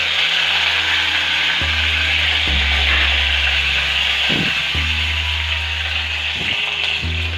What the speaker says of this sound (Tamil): இப்போ வந்து கடுகு உளுத்தம்பருப்பு நல்லா பொரிஞ்சிருச்சு